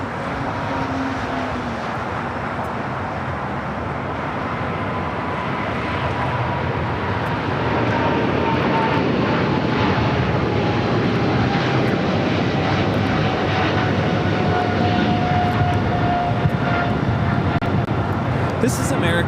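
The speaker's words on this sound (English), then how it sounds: "This is American Airlines 136 taking off to London Heathrow on a 777-300 ER." An American Airlines Boeing 777-300ER takes off from LAX for London Heathrow with a loud, sustained jet-engine roar and a slowly gliding whine, while people talk over it throughout.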